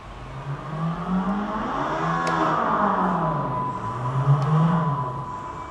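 A Komaki Ranger electric cruiser bike plays a simulated engine start sound through its Bluetooth speaker. Revving tones rise and fall in two sweeping waves over a low, steady rumble.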